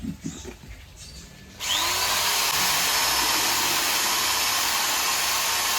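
An electric drill boring holes in plant pots, starting after a moment of quieter handling noise, then a loud, continuous, steady whine held close until the end.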